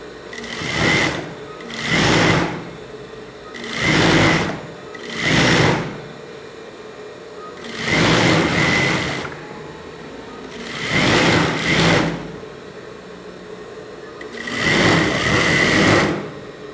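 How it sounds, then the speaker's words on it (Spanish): A flat sewing machine topstitches a seam while sewing women's boxer shorts, running in six or seven loud mechanical bursts of about one second each, separated by short quiet pauses, with no talk. "Sobrepisamos para que esta costura quede bien asentadita."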